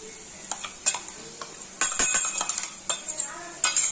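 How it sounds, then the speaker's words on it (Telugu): A metal spoon stirs fried eggplant slices tossed with ground masala chili powder and salt in a pan, scraping and clinking repeatedly in irregular bursts over a soft sizzle, close up with no talking. "ఒకసారి అంతా బాగా కలుపుకోవాలి."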